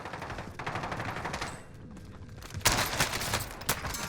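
Rapid automatic gunfire from a Krig 6 rifle in the video game Warzone, with dense bursts of shots, a brief lull, then sharper, louder volleys toward the end.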